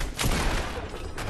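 Sustained gunfire in a shooter video game: a dense, loud burst of rapid shots that runs the whole moment without pause.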